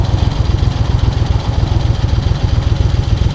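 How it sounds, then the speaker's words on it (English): A 2001 Moto Guzzi EV80 Anniversary motorcycle engine idles loudly and close by, with a steady rhythmic low-pitched chug and no talking. "You can hear it idling nice anyway."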